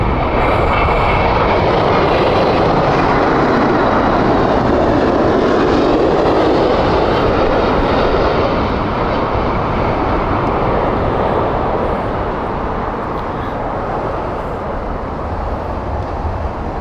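A Boeing 787-9 arriving at Heathrow Airport roars past with a loud, sustained jet rumble and whine that slowly eases off, with no voices over it.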